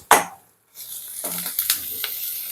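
Mustard seeds, urad dal and green chillies fry in oil: a sharp burst of sizzle, a brief quiet gap, then a steadier crackling fry with a few clinks from the pan.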